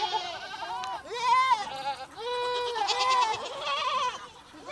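Goats bleat on a farm in a string of loud, close, wavering calls, several overlapping one after another across the whole stretch with no one talking.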